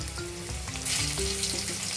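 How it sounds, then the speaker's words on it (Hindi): Grated garlic fries with curry leaves in a pan for a Malwani chicken curry, giving a steady loud sizzle with a brief surge partway through. "तो लहसुन को हम थोड़ा सा भून लेते हैं अच्छी तरह"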